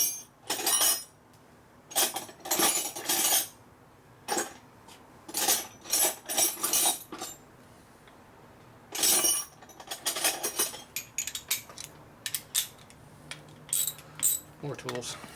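Metal tools clink and rattle in sharp, scattered bursts while the clutch is loosened on a 1941 Harley WLD 45 flathead, with quiet gaps between the clatters.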